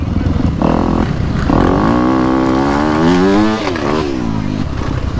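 A dirt bike engine roars close up at Outback Riding Park, holding a loud, steady drone that rises in pitch as it revs, then drops back near the end.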